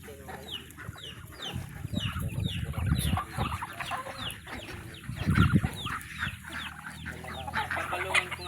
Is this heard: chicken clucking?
yes